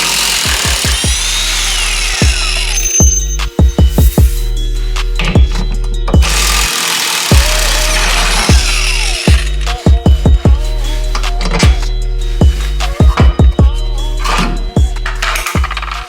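A 17 mm bolt is worked loose from a car's rear lower control arm: sharp, rapid bursts of an impact or power tool hammer out in clusters, separated by short pauses and quieter rustling, loud and close.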